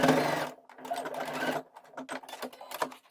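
A sewing machine stitches a line across the corner of a fabric pocket on a belt made from an old skirt, running steadily for half a second, then in short close bursts with small pauses.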